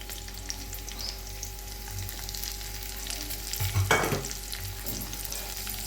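Potatoes frying with chopped onion, garlic, ginger and green chili, a continuous crackling sizzle with a louder burst of stirring and scraping partway through.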